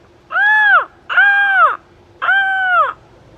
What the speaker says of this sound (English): a seagull, flew over Mr. Plumbean's house